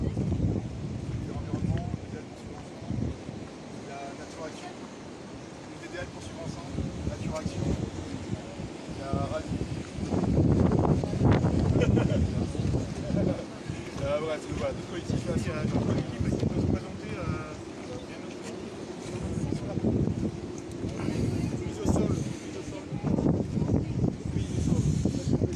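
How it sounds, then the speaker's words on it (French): Strong outdoor wind gusting across a microphone at a protest gathering sets up a constant rumbling roar that swells and buffets in waves throughout, loud and close, with voices faintly present underneath. "Il y a beaucoup de vent"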